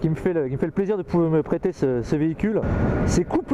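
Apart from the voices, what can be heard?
No everyday noise stands out behind the speech.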